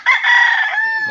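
A rooster crows once near tethered fighting cocks, loud and close, a bright drawn-out call that holds steady and then tapers off.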